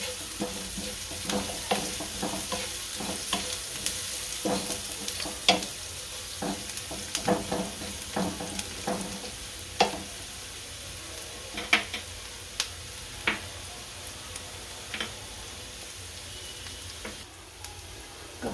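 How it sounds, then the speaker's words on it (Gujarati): Sliced onions sizzle steadily in a pan for a Gujarati dahi tadka, with a soft continuous frying hiss broken by repeated light scraping and tapping strokes of a spoon stirring, fairly quiet and close with no talking. "કાંદાને સારી રીતના સળવા દેવું."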